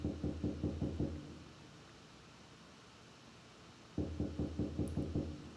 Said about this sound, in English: someone's knocking on a door